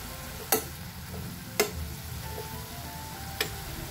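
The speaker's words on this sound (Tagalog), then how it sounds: "so make sure na magisa nyo ng maayos yung toge" Bean sprouts stir-fried for Lucky Me sweet and spicy pancit canton, a steady soft sizzle with three sharp scrapes or knocks of the utensil spaced about a second apart, close and alone.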